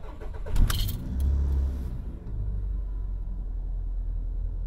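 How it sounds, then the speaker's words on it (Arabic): A used 2003 car engine cranks and catches, with a brief jangle of keys at the start, then settles into a steady, low, close idle rumble. "فترة تدوير السيارة."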